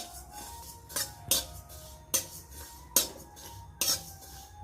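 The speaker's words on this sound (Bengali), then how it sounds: "আমি নেড়ে হালকা করে পানমৌরি আর গোটা সাদা জিরে ভেজে নেব" A spoon stirs fennel and cumin seeds dry-roasting in a pan, producing a handful of sharp metallic scrapes and clinks at irregular intervals over a quiet, hollow background.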